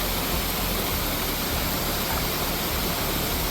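Otter Creek rushes along a trail in the Great Smoky Mountains near Maddron Bald, making a loud, constant broadband roar of flowing water close by, with no voices.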